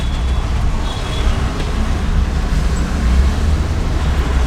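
Road traffic rumbles steadily around a moving car as a bus approaches suddenly, a low continuous engine and tyre drone with no talk.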